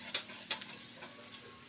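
Chopped onions sizzle and fry in a pan for a tofu and hotdog dish, a steady hiss with a few sharp scraping clicks of stirring, close and alone with no voices.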